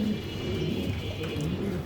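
Pigeons in a loft, including lone-back lark pigeons, give low continuous cooing close by over a steady background hum, no speech.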